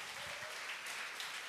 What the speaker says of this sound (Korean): 주님께 영광의 박수 올리겠습니다